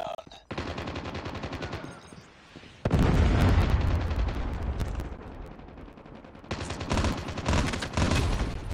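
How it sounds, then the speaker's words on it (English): Call of Duty Mobile free-for-all match with a Predator missile strike and gunfire: rapid automatic bursts, a sudden loud blast that booms and decays, then more fast rattling fire, with a brief announcer voice near the start. "Predator missile inbound."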